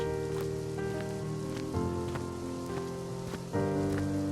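Steady rain patters on a surface, a continuous close hiss with soft drops, under a sustained musical tone.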